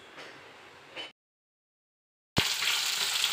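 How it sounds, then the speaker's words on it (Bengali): Pieces of katla fish sizzle in hot oil at close range, a steady hiss that cuts off into silence for over a second before the frying resumes, louder and brighter. "এখানে মাছ ভাজা হচ্ছে, এটা কাতলা মাছ আছে, ওই জন্য মাছটা ভাজা হচ্ছে"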